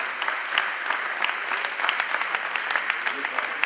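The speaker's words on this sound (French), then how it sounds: "Vos applaudissements chaleureux." Audience applause at a commemoration of the 75th anniversary of the liberation of Pfastatt and Lutterbach, a steady wash of many hands clapping throughout at moderate loudness.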